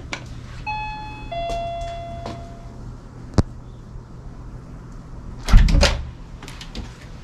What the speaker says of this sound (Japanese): ピンポンしちゃいましたね